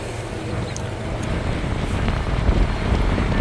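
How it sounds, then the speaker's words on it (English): Wind gusts steadily outdoors in open farm country, a broad continuous rushing buffet across the microphone that builds slightly louder toward the end. "It's a little windy out"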